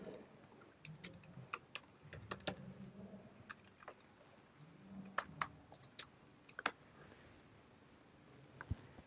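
Typing code on a computer keyboard: quiet, irregular key clicks and taps in uneven clusters, close but soft, with no talking.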